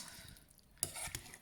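Cabbage curry tossed in a pan, a quiet lull broken by a sudden bright clatter and sizzle of the toss, then a second short scraping burst.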